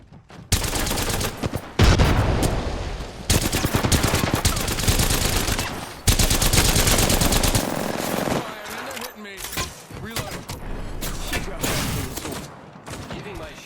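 Sustained automatic gunfire in a shooter game played as Bangalore, with long loud bursts broken by short pauses and scattered single shots toward the end.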